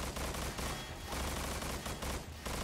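Sustained automatic gunfire from the game Estranged Act 1 in a warehouse showdown, a dense, loud, continuous fusillade with brief gaps between bursts and no talk.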